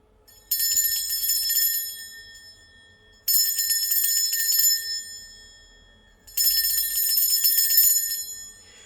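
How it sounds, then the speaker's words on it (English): A bell is struck three times in a space-cleansing ritual. Each bright, ringing tone rings out for about two seconds and fades before the next strike. The bell is close and clear, with no talking. "I am going to ring a bell"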